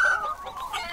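Chickens cluck in the farming survival game Dinkum, a short burst of close, loud fowl calls that starts strong and then stays steady for about a second.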